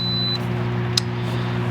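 A Saluspa Laguna portable spa control keypad gives one short, clear electronic beep as it is unlocked, heard close up over a steady low hum from the spa.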